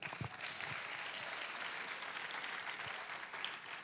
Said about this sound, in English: Clap them.